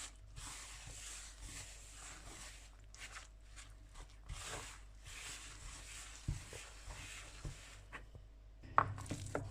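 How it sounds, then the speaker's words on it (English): Irish soda bread dough with olive oil and milk being mixed by hand in a bowl, producing soft irregular wet slaps and scrapes at low level, close, with no talking. "Now we're going to mix this to a loose, soft mixture."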